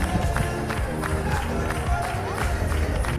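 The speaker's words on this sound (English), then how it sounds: "The entire crowd was charged up. Every clap, every cheer echoed the infectious energy of the moment" Large festive crowd at a Singapore Pongal celebration, a dense continuous roar of cheering and scattered clapping with voices shouting throughout, loud and steady for a few seconds.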